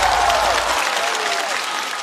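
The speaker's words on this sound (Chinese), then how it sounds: "热烈的掌声送给贾浩" Studio audience applauding a stand-up comedian on a Chinese talk show stage, a dense, loud wash of clapping that fills the whole stretch and tapers slightly toward the end.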